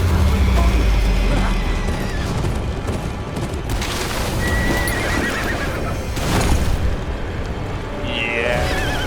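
Horses neigh and whinny in the Game of Thrones: Kingsroad video game beyond the Wall, with hooves clopping and booming rumbles beneath loud, sharp whinnies.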